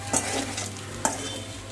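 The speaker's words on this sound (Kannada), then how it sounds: "ಈಗ ಇದನ್ನು ನೀಟಾಗಿ ಕಲಸಿ" Egg fried rice with chili powder and salt tossed in a pan, two scraping strokes of a spoon over a steady low sizzle, close by and without speech.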